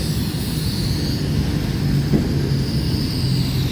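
A freight train heading up toward Bandel Junction in dense fog, heard as a continuous low rumble with a steady roar and a faint high whine, no voices.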